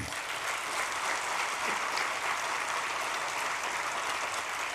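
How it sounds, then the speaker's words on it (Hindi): An audience at a political speech by Amit Shah in Maharashtra bursts into loud, sustained applause, a dense wash of clapping that holds steadily throughout with no voice over it. "जोर से ताली बजाना"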